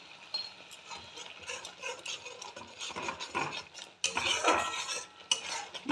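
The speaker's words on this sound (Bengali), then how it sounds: "মশলাটা ভালো করে কষিয়ে নেব।" A utensil stirring and frying spices with cumin powder, salt and turmeric in a pan, repeated scraping and clinking strokes with a sizzling hiss, with louder metallic scrapes toward the end.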